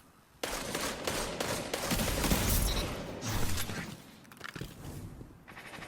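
The Malfeasance gun fires in the Destiny 2 video game, with rapid bursts of sharp shots and crackling impacts that rise and fall over several seconds, loud and near.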